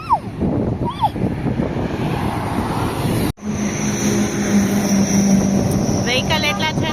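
Road traffic streams past a roadside stall, a loud continuous rumble of passing vehicles with a brief cutout midway and a faint horn-like tone near the end.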